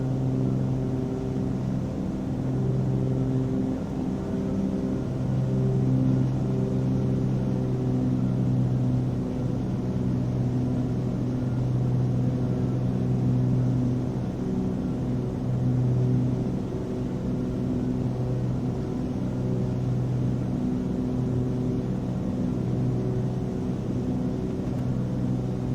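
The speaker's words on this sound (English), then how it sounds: "it seems that the engines are still a little loud." Twin engines of a Cessna 414 drone in cruise flight over the desert, a loud, steady cabin rumble with a pulsing, throbbing tone that carries on unbroken with no talk.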